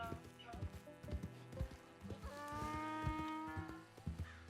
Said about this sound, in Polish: No ale dobra, mamy zebrę. Śmieszne dźwięki wydaje.